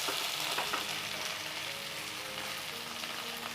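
Tomato and green chilli frying in a pan, a steady close sizzle with soft crackle and light stirring, no voices.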